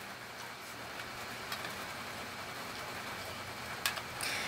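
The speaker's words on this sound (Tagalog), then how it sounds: "bumubuhos ng malakas na ulan sa bubong ko, naririnig naman sa video natin" Heavy rain pours onto a house roof, making a steady, faint, broadband hiss that continues unbroken, with a couple of slightly louder patters near the end.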